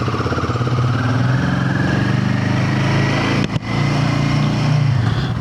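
Motorcycle heading off on a ride toward a sea beach, a loud close engine drone with a steady throbbing pulse, briefly interrupted by a bump or gear change, then running on.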